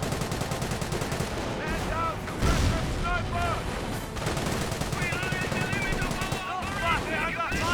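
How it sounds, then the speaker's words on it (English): Mortar shells and gunfire pound a Company of Heroes 1 battle between German Panzer Elite and British forces: dense booms and rattling machine-gun bursts, with a voice speaking over the din. "Great mortar hit there."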